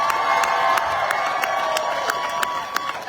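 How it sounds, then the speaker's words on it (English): A crowd at an outdoor protest rally cheers and shouts, sustained mid-distance noise with a few sharp claps and whoops rising out of a dense wash of voices. "I want you to make some noise for all the volunteers this evening that have made it possible"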